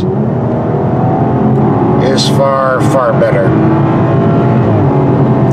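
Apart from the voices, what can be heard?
BMW X4 M40i turbo six-cylinder engine accelerating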